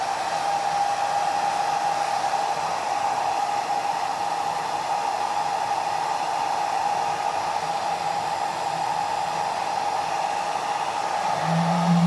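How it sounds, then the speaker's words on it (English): A hair dryer blows steadily and alone at close range, drying glue on a craft bottle, with a constant whooshing hum that holds unbroken for the full length. "I'm actually just going to dry this quickly."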